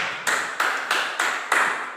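Five short, evenly spaced bursts sound like an applause cue for a quiz contestant, each one bright and sharp, then fading quickly. The sound comes alone with no talking.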